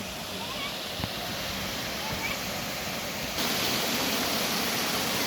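Constant broadband rush of falling water from a large waterfall in a rock garden, growing louder partway through, with a faint voice underneath.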